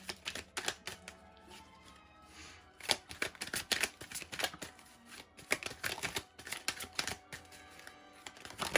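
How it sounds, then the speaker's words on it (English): Tarot cards being shuffled by hand in a series of crisp riffling bursts with brief pauses between them, close and fairly quiet, with no talking. "And one more shuffle here."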